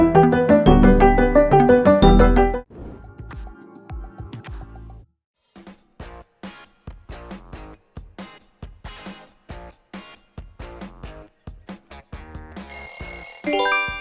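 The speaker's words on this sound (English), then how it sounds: "Google Pixel's the right call." A Google Pixel smartphone ringtone plays clear melodic chime notes, first a dense bright run, then a sparser sequence of plucked tones, ending with a loud high burst.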